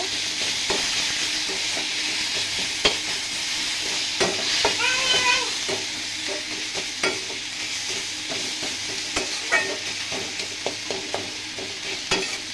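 Ginger and garlic paste fries in a pan under a loud, steady hissing sizzle, while a spatula stirs with regular scraping knocks throughout.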